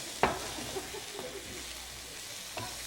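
Ground meat fries in olive oil in a pan, giving a continuous soft sizzle with a few sharp clanks of stirring and scraping at close range.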